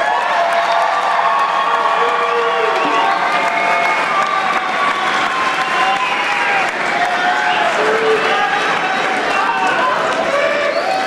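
A commencement crowd at Texas A&M University–Kingsville gives graduates a round of applause, a dense, steady wash of clapping mixed with cheers and scattered whoops, staying loud and full from start to finish.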